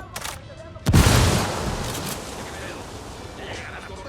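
A frag grenade detonates in Ghost Recon Wildlands, a loud boom near the one-second mark that decays into a long rumbling tail, with a voice speaking just before it.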